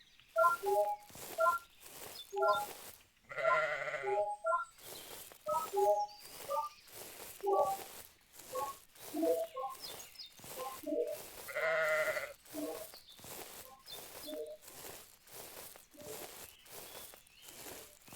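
Sheep in the video game Blind Survival bleat in two drawn-out calls, set among a rapid run of regular beeping tones and clicks.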